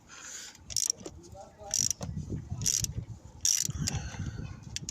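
A 12mm socket wrench ratchets and clicks in four short bursts while cylinder head bolts are loosened on a Honda Vision 110 motorcycle engine, close and crisp, with someone speaking softly between them.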